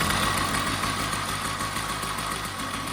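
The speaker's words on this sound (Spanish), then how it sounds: "Para encenderlo fácil, presionamos el embrague y tiramos del cable." A homemade combustion engine fitted to a scooter, pull-started and now running with a loud, steady, buzzing drone and rapid even pulsing, close by and alone.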